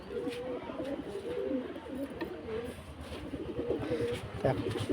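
Pigeons coo repeatedly in soft, rolling low calls, fairly close, with a person's voice now and then beneath them.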